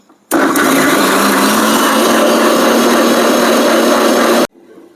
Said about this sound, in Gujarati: હવે આપણે મિક્સરમાં ક્રશ કરી નાખીએ।